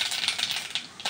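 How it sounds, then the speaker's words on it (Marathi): Mustard seeds popping in hot oil in a wok, giving a quick run of sharp, crackling pops and sputters, close and fairly loud, with no voices. "तेल गरम झाले, आता मोहरी टाकली"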